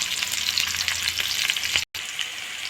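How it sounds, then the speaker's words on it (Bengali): Chopped onions sizzle in hot oil in a wok, a loud, steady crackling fry with stirring, briefly cut off by a short moment of silence before resuming. "একটু ভাজা হতে দিতে হবে।"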